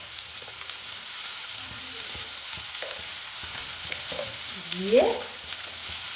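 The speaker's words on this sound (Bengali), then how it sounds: "খুব সুন্দর করে লাল লাল করে ভেজে নেব" Potatoes frying with turmeric in a pan, a steady broadband sizzle throughout with occasional stirring scrapes and a brief louder clatter near the end, a short spoken word passing over it.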